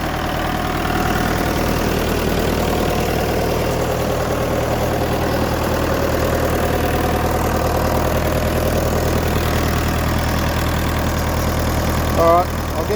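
A reconditioned Fordson Power Major tractor engine idles steadily after a cold start, a continuous low rumble with an even pulse, close and loud throughout, with a brief rise near the end.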